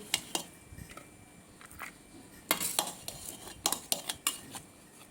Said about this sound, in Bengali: এখন আমরা সেই বিরিয়ানি দিয়েই সবাই একসঙ্গে বসে রাতের খাবারটা খেয়ে নিচ্ছি